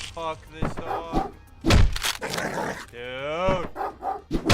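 Game dogs from Hotline Miami 2 bark and attack, with heavy thuds and a noisy scuffle in the middle, loud and close, while someone speaks over them.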